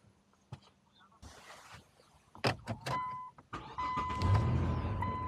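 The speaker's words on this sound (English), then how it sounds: "Car starts." Car engine cranking and catching after a locksmith programs a key, brief starter whir then a low idle settling in, with faint voices nearby.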